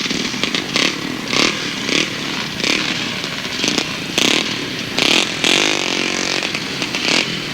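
Two-stroke grasstrack racing motorcycles at a 1991 championship meeting rev in repeated sharp, buzzing bursts on the start line, loud and fairly close, with several engines blipping in an uneven rhythm.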